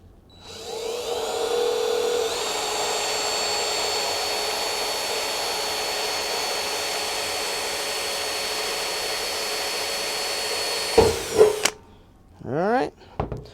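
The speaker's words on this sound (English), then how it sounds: "So now I got the 2 holes drilled." A power drill whines steadily for about nine seconds boring holes through a cracked cymbal, a loud sustained motor tone that cuts off abruptly, followed by a few brief metallic knocks and handling noises.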